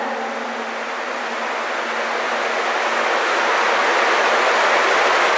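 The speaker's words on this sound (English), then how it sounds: "Can you hear the sound of water ahead?" Water rushes steadily through an underground concrete culvert in Sheffield, a loud, even roar of flow echoing in the tunnel that grows slightly stronger as it goes on.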